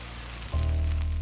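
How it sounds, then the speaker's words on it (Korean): Korean pancake batter (jeon) fries in a pan with a soft, steady sizzle like light rain, and a low hum swells in partway through, with no talking. "지글지글 빗소리를 닮은 전이"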